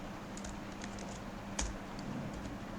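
Computer keyboard typing while writing C++ code, a quiet, irregular patter of light key clicks with one sharper tap midway, close and faint with no talking.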